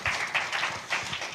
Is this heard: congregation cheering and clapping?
yes